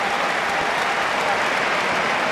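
A rugby crowd at a 2007 World Cup pool match between Scotland and Portugal roars and applauds in a steady, dense wash of cheering that holds loud throughout after a Scotland conversion attempt.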